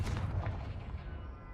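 The Confringo explosion spell in Hogwarts Legacy goes off with a single deep, loud boom that rolls off into a fading rumble, heard alone.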